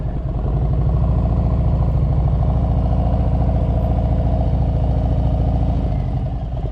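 Motorcycle engine running steadily and close as the clutch is eased out into the friction zone and the bike pulls away from a stop, a continuous mid-pitched throb with clattering texture and no talk.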